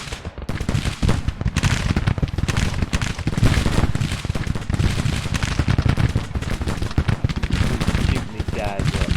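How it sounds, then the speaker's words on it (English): Dense, continuous musket volleys and scattered rifle cracks from a Civil War battle in the strategy game Grand Tactician, loud and relentless throughout, with a voice partly audible beneath the firing. "Shooting these guys up big time."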